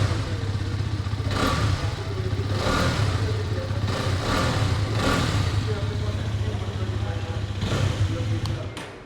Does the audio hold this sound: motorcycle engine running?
yes